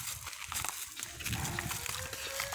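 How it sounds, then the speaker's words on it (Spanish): A cow moos outdoors, a low, drawn-out call heard faintly at a distance over a busy, noisy open-air background. "Oigan esa vaca, mucha."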